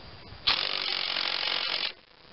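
A ratchet tightens the pivot bolt on an Ingersoll Case 448 garden tractor, heard as a single continuous run of fast ratcheting clicks lasting about a second and a half, close and loud, with no talk.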